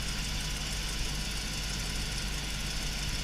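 A 2003 Hummer H2 engine idles steadily, a continuous low rumble with a faint rhythmic knock running evenly throughout, no voices present.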